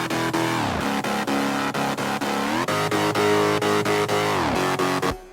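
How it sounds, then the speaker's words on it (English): Legato bass synth line in a remix production, thick and growly with notes gliding smoothly into one another over a steady pulsing rhythmic layer, loud and continuous with no talking. "I have some legato on the bass"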